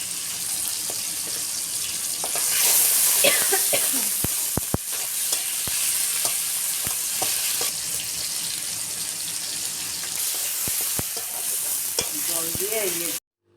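Leafy greens fry and get stirred with salt and turmeric in a pan over a clay village stove, a steady close sizzle broken by frequent sharp scrapes and taps of the spatula, with no talking.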